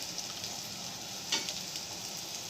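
Sliced bitter gourd sizzles steadily in hot oil in a pan, a continuous close frying hiss with a brief louder crackle partway through and no voices.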